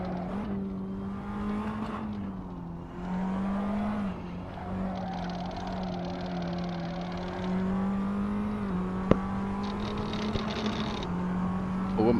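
A race car on hard tyres at Silverstone roars steadily with its engine held at high revs, pitch rising and dipping as it accelerates, with a sharp click partway through.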